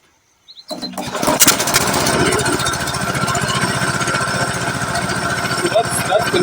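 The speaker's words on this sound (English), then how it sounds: "let me get the generator started" A petrol engine driving a 30 kW Chinese permanent magnet generator on LPG cranks and catches after a short silence, then settles into a loud, steady near idle at minimum throttle with a rapid pulsing beat.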